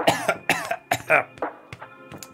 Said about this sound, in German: Alter, Männer husten hier.